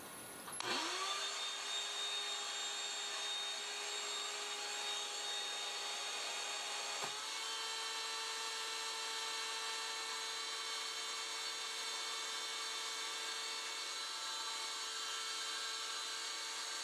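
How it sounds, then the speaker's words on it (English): A vacuum pump switches on for a We R Memory Keepers mold press, a vacuum-forming machine molding heated plastic sheet: a steady, loud, continuous whine and hum with a brief drop and restart partway through, then running on alone. "Let's go ahead and turn on the vacuum."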